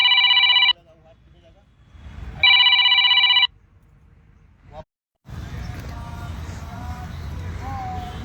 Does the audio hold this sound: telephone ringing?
yes